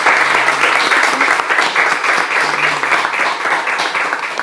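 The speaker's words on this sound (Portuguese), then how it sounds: "Você pode dar uma salva de palmas ao Senhor, amado?" A church congregation gives a loud, sustained round of applause during an Easter service, a dense wash of clapping from many hands filling the room without pause, with faint voices underneath.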